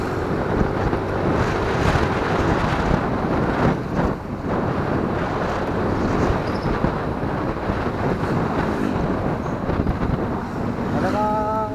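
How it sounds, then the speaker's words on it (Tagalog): Wind roars steadily across the microphone while riding a Yamaha NMAX V2 scooter at top speed in traffic, a loud continuous buffeting with a faint engine hum underneath and a brief tonal beep near the end. "Wala nang nasipol yung hangin,"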